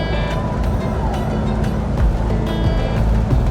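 Double-decker intercity bus running from Palembang to Jakarta as it picks up speed, with a loud, constant rumbling drone heard from inside the cabin and road noise and rattles over it.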